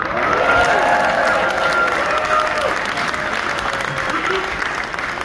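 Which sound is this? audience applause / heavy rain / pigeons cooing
audience applause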